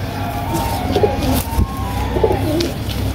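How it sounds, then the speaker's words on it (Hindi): Low, soft pigeon coos repeat a few times close by, over a steady background hum. "ए जोड़े वाला ही कबूतर जे, बड़ा ही अच्छा कबूतर जे"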